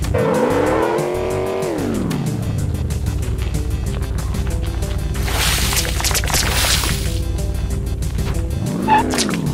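In the Enviro-Bear 2000 video game, a car engine revs and whines, its pitch sweeping up and down as it reverses. A loud hissing tire skid bursts out in the middle, then the engine surges again at the end.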